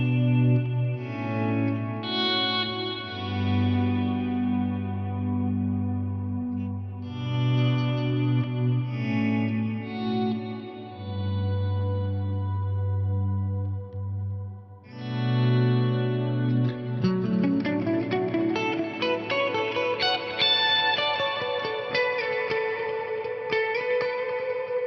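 Electric guitar chords ring out through a Fractal FM9 with Stratocumulus reverb at 50% mix, drenched in heavy reverb and echo, swelling and washing together before a brighter, busier strummed passage builds near the end.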